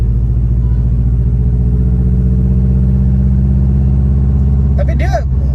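A Subaru Impreza WRX turbocharged 2.5-litre boxer four-cylinder rumbles steadily at low revs, its deep, loud, even burble continuous throughout, with speech heard over it near the end.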